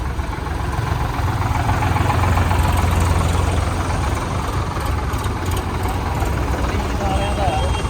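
A tractor engine runs close by with a steady low rumble throughout at a farmers' fair, while voices talk over it.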